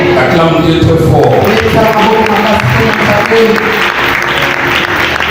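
Congregation at a church service applauding loudly and steadily for about five seconds, a dense sustained clapping with some crowd noise mixed in.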